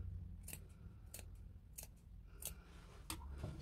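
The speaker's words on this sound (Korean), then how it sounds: "가위밥을 주십니다." Scissors snip into the seam allowance of padded jacket fabric, making several sharp, quiet clicks spaced about half a second apart against a soft background.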